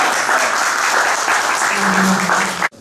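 Audience applause fills a room at a journalists' day breakfast event, a dense steady clatter of many hands that cuts off abruptly near the end.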